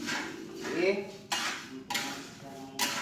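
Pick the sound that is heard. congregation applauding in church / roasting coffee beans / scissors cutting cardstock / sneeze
roasting coffee beans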